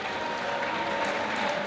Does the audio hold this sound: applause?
yes